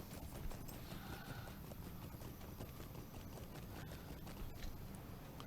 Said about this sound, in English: Let me get on my horsey.